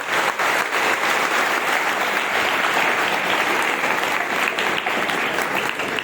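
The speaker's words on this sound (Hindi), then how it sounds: "अच्छी तालियां बजाते हैं" A school audience applauds after a patriotic poem recital about Bhagat Singh, loud dense clapping sustained evenly throughout with no speech on top.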